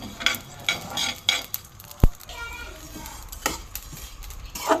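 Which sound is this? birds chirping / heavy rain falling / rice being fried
rice being fried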